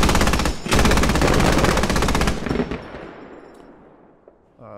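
A stationary emplacement gun in the game Squad fires a long, rapid burst of tracer fragmentation rounds, loud and close, with a brief break early on, then the shots stop and the echo trails off into near silence.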